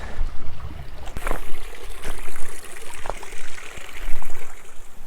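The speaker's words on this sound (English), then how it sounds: "I heard the trickling water." Steady rushing water fills the clip, a trickling stream with a broader roar of rapids underneath and a few faint knocks and clicks nearby, at the Great Gully, Finger Lakes, New York.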